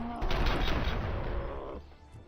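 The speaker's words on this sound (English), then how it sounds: "They're shooting hostages." Gunfire in a Robocop video game, a dense burst of rapid shots lasting under two seconds at moderate volume, cutting off abruptly into near silence.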